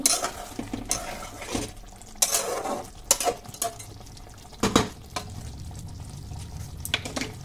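A spoon scrapes and stirs matar aloo curry in a pan on the stove, giving several distinct clanks and scrapes over a soft simmering sizzle, fairly close and with no talk.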